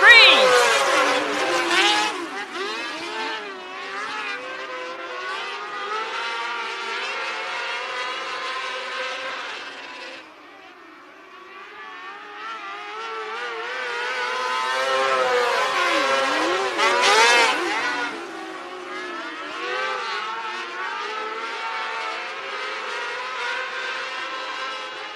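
Winged sprint cars in an Outlaw wing heat race at Marion County Speedway, high revving engines rising and falling as cars pass and circle the bullring, with an announcer talking over the roar.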